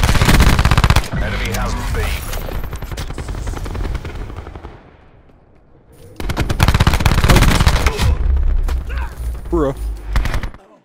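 Rapid bursts of MicroMG submachine gun fire from Black Ops 4 gameplay, loud sustained automatic fire with a quieter gap in the middle, while players talk over it.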